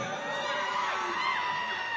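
Large crowd roaring and cheering at a political rally in Maharashtra, a dense wall of voices with scattered whoops, steady and fairly distant throughout.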